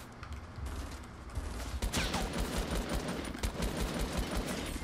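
Rapid gunfire bursts crackle through a Fortnite match, with repeated shots from a machine gun and other weapons over a steady rumbling background, loud and sustained.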